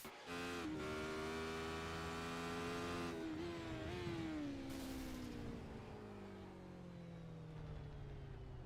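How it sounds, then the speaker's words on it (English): In a sim racing game on the Daytona Roval, a race car engine revs hard at close range, then blows. A loud harmonic whine sags and winds down in pitch as the engine dies. "Did he just blow that engine?"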